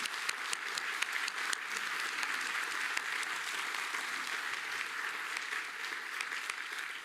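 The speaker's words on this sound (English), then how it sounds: "join me, please, in giving a round of applause to our panelists" An audience at an OECD Local Development Forum gives the panelists a round of applause: steady, dense clapping from a sizeable crowd that holds evenly for several seconds with no voices.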